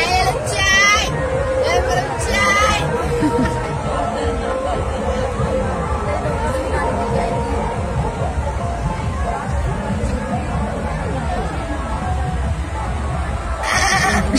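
A person imitates a goat, producing bleating sounds amid loud crowd chatter and talking voices, with short bleat-like bursts near the start and again at the end.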